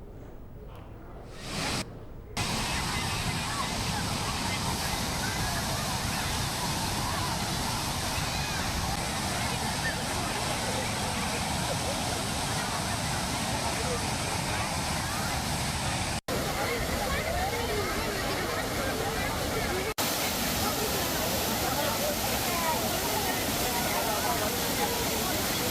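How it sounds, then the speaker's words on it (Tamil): Water pours over the Kodiveri dam like a waterfall as bathing tourists gather, a dense, steady roar that fills the whole stretch without a break, with no clear voices above it. "கொடிவேரி அணையில் அருவி போல் கொட்டும் தண்ணீரில் ஏராளமான சுற்றுலா பயணிகள் உற்சாகமாக குளித்து வருகின்றனர்"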